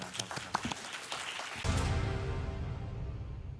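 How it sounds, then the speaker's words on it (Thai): At a Thai Sang Thai party policy event, light rustling gives way to a sudden burst of audience applause. Dense, steady clapping continues to the end. "ขอเสียงปรบมือด้วยนะครับ"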